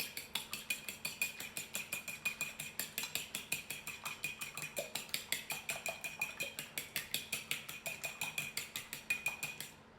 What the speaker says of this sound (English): And then just using a fork, just kind of whisk it a little bit.